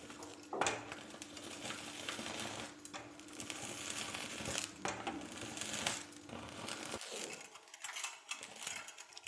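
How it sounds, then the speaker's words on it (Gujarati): A khichiya papad crackles and rustles as it is turned over a hissing gas flame, a steady close roar with scraping shifts and occasional clinks. "આ રીતે ફેરવતા ફેરવતા બંને પાપડને શેકી લઈએ"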